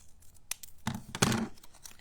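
Scissors snipping through a small paper sentiment for a handmade card, a few quick, quiet crisp cuts and paper rustles close by.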